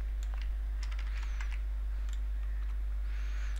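Scattered key clicks from typing a command on a computer keyboard while mounting a drive on a Raspberry Pi, light irregular taps over a steady low hum, no talking.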